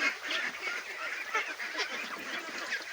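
Domestic ducks honk and quack continuously while feeding on banana and rice bran in their pen, a busy flock chorus of overlapping calls close by with no speech.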